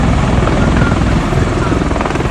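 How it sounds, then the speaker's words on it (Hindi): Heavy military helicopters operating from a warship at sea during a naval exercise give a loud, continuous rotor roar with a dense low thrum, close and unbroken throughout. "इस दौरान कई भारी भरकम हेलीकॉप्टर जंगी जहाज से उड़ते और लैंड करते नजर आए।"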